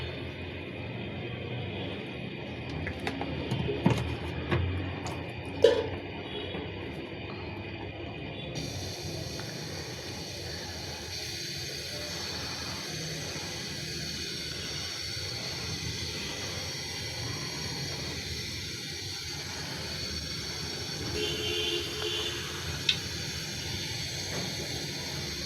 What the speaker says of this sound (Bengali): হাঁড়িতে তেল দিয়ে দিচ্ছি।